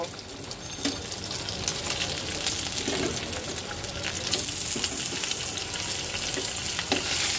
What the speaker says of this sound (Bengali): এর মধ্যে দিয়ে দেবো আমি সেদ্ধ করা আলুগুলো, একটু হালকা ভেজে নেব